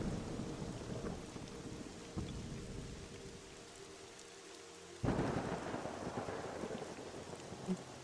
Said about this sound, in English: And this thunder is so loud, I feel like I'm screaming